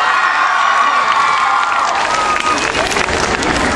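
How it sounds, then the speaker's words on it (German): An audience in Gummersbach breaks into loud, sustained applause, with excited children shouting and cheering through the clapping. "Applaus für den lieben Matt!"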